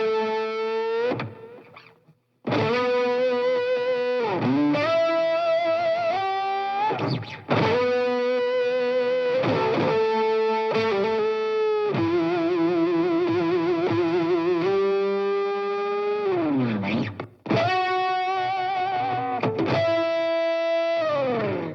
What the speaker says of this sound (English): it is definitely a fuzz pedal